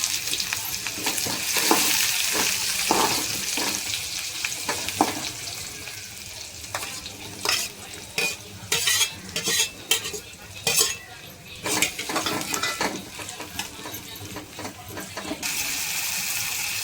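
Mustard seeds, cumin and onion fry in hot oil for a sprouted moong misal, giving a steady close sizzle broken by crackles, clinks of a spoon against the pan and bursts of stirring.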